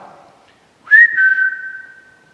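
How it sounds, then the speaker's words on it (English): A single clear whistled note rises and then holds steady for about a second, loud and close, after a quiet, faint murmur, inside Woodchester Mansion at night. "If I whistle, can you whistle back?"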